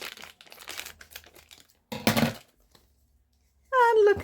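Scissors or a blade cut through cardboard box packaging in short crinkly bursts, followed by a louder tearing rasp, with a brief tonal sound at the end.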